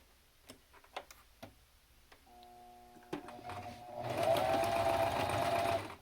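Sewing machine stitching elastic onto a fabric face mask. A few scattered clicks and taps lead into a steady, close mechanical whir of fast stitching that builds and holds to the end.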